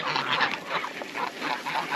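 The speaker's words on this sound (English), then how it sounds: "Oh, geese." Several geese honk together outdoors in a steady run of overlapping nasal calls lasting the whole two seconds, fairly close and clear.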